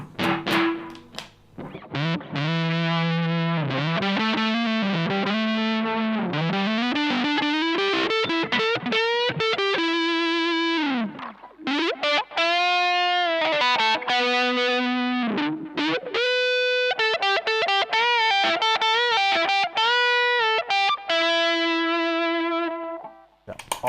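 Heavily distorted electric guitar run through fuzz, wah and tape delay, playing sustained bends and sliding lead phrases with echoing repeats, loud and continuous with only brief gaps.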